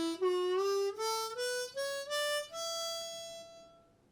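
A harmonica plays a rising Dorian scale, one clean note after another in a steady stepwise run, ending on a longer sustained top note; played solo and fairly close.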